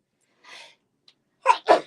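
A single close sneeze: a soft breathy intake, then a sharp two-part burst, with quiet before it.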